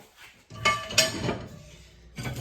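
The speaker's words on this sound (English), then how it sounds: "I'll take my frying pan" A metal frying pan clanks and scrapes close up, lifted and set down with a bright clink, with no talking.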